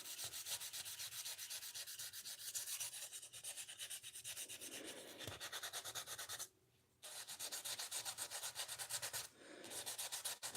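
Guitar finish being hand-sanded with 1200 to 1500 grit sandpaper: close, brisk rhythmic rubbing strokes, steady and continuous, with two short pauses.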